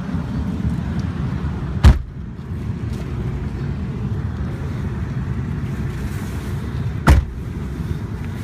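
A 2006 Ford F350 pickup with a V10 engine drives on a test ride, a steady low engine and road rumble from inside the cab, broken by two brief knocks or thumps.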